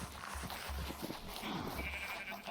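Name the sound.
sheep bleating in video game Reclamation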